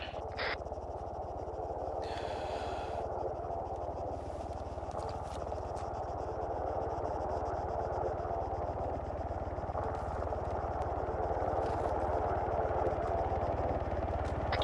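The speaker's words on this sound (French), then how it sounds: "Hélicoptère arrivant de l'ouest." Helicopter in a military video game approaching, a steady low rotor drone holding throughout at an even level, with occasional brief higher noises above it.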